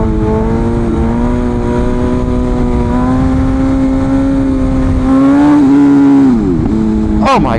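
A BMW S1000RR sportbike engine drones steadily at constant revs, then dips and rises sharply near the end with a quick clutch-shift pop, loud and close over wind noise.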